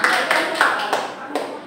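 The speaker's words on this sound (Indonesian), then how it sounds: "Betul, tepuk tangan." A handful of scattered hand claps ring out in a small classroom lesson, a few sharp slaps spread over a second or two while a voice talks over them.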